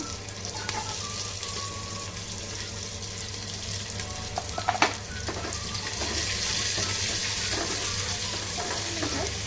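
Curry leaves, mint and onion frying in a pan, with a steady sizzle over a low hum and a few scattered clinks of a utensil, moderately close.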